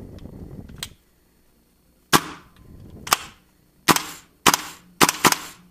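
A KWA LM4 PTR airsoft rifle fires five sharp, close shots at uneven intervals, each with a brief springy twang, after a short stretch of quiet background rumble.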